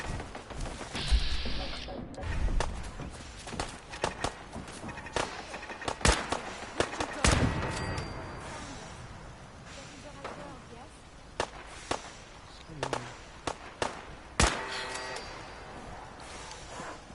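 Scattered gunshots in Fallout 4 ring out as sharp irregular cracks and pops, some single and some in quick clusters, mixed with other game sounds over about seventeen seconds.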